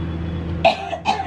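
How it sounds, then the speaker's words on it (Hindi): Two sharp coughs about half a second apart, close and fairly loud, over a low steady hum. "खांसी शुरू हो गई"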